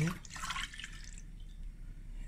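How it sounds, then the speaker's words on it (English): Milk pours into a saucepan for chocolate sauce in a home kitchen, a short soft liquid splash and trickle up close that fades into quiet room tone. "I'm just going to add a cup of milk. I'm just pouring it."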